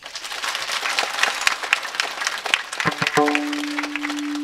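Devotees at a village kirtan clap loudly together in a dense, steady burst, and a sustained tonal note joins near the end as the clapping continues.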